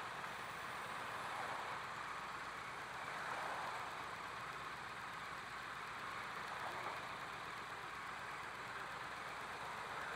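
A 2017 Triumph Street Twin motorcycle's parallel-twin engine idles steadily with a deep, even rumble, close and continuous throughout with no speech.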